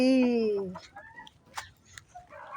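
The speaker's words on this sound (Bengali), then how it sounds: "মুরগি মুরগি মুরগি" A hen gives a drawn-out squawk, followed by scattered soft clucks and chicken noises close by, with faint background chatter.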